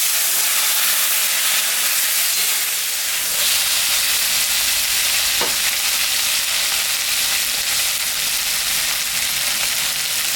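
Bata fish frying in hot oil with radish, aubergine and potato, a steady, loud sizzling hiss filling the whole stretch, with a brief sharper crackle midway and no voices.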